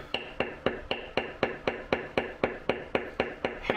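A flat checkered matting tool struck repeatedly with a hammer on tooling leather, giving a steady, close series of about fourteen crisp, even taps at a brisk regular rhythm, with no talking.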